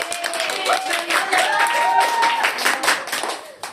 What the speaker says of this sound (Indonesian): Tolong tepuk tangan dulu.